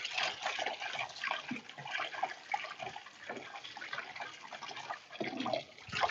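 Water runs and splashes steadily over boiled noodles in a strainer as they are rinsed, a close, continuous gushing with uneven surges and no voices.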